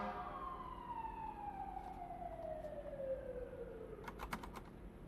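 An ambulance siren passes by, its tone sliding steadily downward as it recedes, with a few quick keyboard taps near the end.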